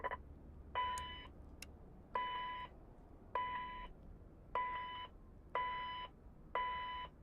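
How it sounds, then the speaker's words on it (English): An airplane cockpit powering up on battery gives six evenly spaced electronic startup beeps, each a clear sustained tone about a second long, moderately loud over a quiet hum. "It's going to beep a little bit."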